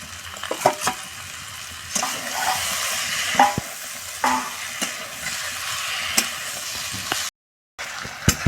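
Desi chicken is mixed with salt and chili paste in a pan, with repeated close scraping and stirring strokes over a soft sizzle and no talking.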